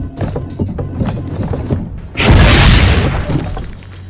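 A cannon in Assassin's Creed Brotherhood fires at target dummies, one loud heavy boom bursting in midway after a stretch of busy game ambience and clatter, then rumbling and fading.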